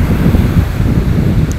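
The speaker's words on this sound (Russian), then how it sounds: "Ну и ветер, конечно." Strong wind roars across the microphone in a continuous low buffeting rush, with a faint wash of surf underneath and no voices, on a beach at Shchastlyvtseve on the Sea of Azov.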